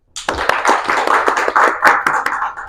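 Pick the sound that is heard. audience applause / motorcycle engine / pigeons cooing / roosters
audience applause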